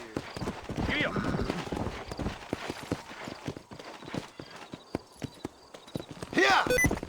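Horse hooves clip-clop at a brisk gallop in Red Dead Redemption, steady close hoofbeats with a whinny near the end and a voice at the start.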